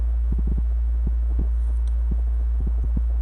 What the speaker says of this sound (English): The air conditioner, it might be what you're hearing.